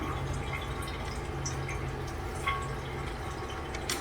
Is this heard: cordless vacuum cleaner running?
no